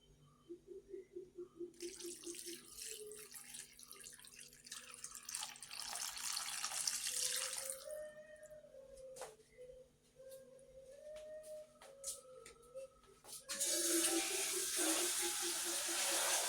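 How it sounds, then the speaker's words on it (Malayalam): Water runs steadily in a continuous splashing stream into a cooking pot of beef for several seconds, swelling louder near the end, with faint clinks at the start. "ഇനി നമുക്കിതിലേക്ക് ആവശ്യത്തിനുള്ള വെള്ളം ഒഴിച്ചു കൊടുക്കാം"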